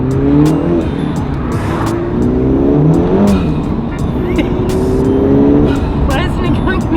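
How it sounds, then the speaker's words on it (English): A 2019 Honda Civic Type R revving, rising and falling engine tones in several blips close by, with people talking over and around the engine noise. "Next up, 2019 Type R. Give us a rev."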